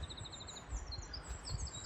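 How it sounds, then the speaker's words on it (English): Birds singing along the Appalachian Trail in the Smokies, faint repeated high chirps and short trilled phrases drifting over quiet wind, distant and soft with no talking. "Birds are finally singing."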